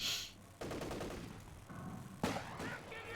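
Gunfire crackles through a Company of Heroes 2 battle as a sniper picks at German Sturmpionier infantry: a dense burst of shots, then a second sharp report with a loud onset, moderately near and without talk.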